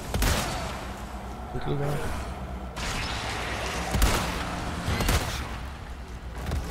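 Repeated gunshots ring out in the video game Resident Evil 4, scattered sharp bangs mixed with the game's noise, while a player talks over the action.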